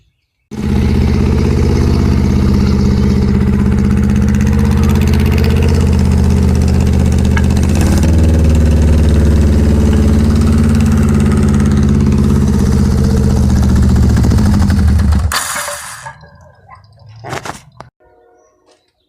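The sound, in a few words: 1982 Yamaha 550 motorcycle engine idling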